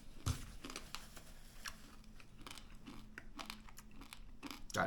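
Close, quiet bites and chewing on crunchy baked pork skin made from fatback, a series of sharp crackling crunches in an irregular rhythm with soft mouth sounds between them.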